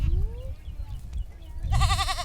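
A baby goat on a farm gives a loud, wavering bleat near the end, close to the microphone, after a stretch of low rustling and a faint earlier cry.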